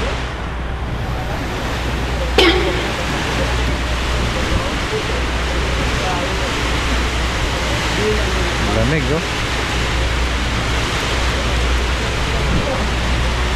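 Heavy rain pours in a steady, dense roar outdoors, loud and unbroken throughout, while people talk briefly over it.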